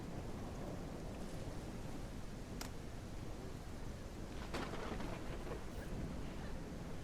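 A thunderstorm with steady rain pours down on a ranch, a continuous broadband wash with a couple of sharp distant cracks of thunder breaking through; wind buffets the microphone faintly and no one speaks.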